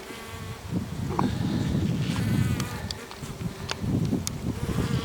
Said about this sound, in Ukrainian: весь рій на місці, всі бджоли на місці.